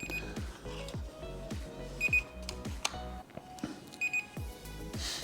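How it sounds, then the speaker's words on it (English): A Holy Stone HS110G GPS drone gives off short electronic beeps while it records video, with repeated tonal blips over steady background noise and a few louder chirps spread through the clip. "It'll beep at you when you're in headless mode or you're recording a video."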